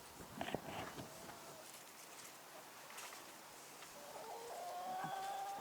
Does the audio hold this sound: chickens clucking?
yes